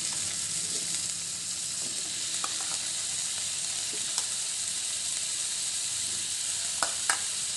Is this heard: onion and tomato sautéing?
yes